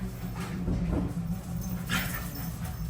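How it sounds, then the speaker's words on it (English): Several dogs whimper and let out short yips and barks close by, a restless, continuous mix of whines over a low background hum, with no talking. "these dogs are crazy."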